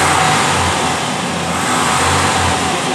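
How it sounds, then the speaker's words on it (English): Car engine revved while the transmission sits in park, a loud close steady roar held at raised revs for the whole stretch. "We're in park, and I can accelerate."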